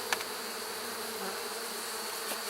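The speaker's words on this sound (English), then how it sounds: "there are a lot of bees up here" Honey bees massed in the top super of a hive during honey extraction hum in a steady, dense drone with a couple of brief closer buzzes, moderately loud and alone.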